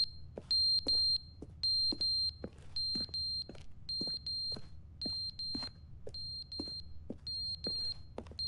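Electronic alarm beeping in the video game The Stanley Parable, a high, piercing tone pulsing in regular paired bursts about once a second, with faint low thuds between, clear and unaccompanied by speech.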